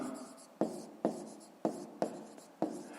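A pen strikes and scratches across paper in five or six short, evenly spaced strokes, close and quiet, with no talking.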